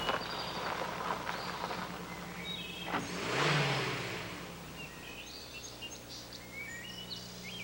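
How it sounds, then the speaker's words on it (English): A Jeep drives past with a steady low engine rumble that swells near the middle of the pass and then fades. Birds chirp and call throughout in the background. "More shots of a Jeep driving around."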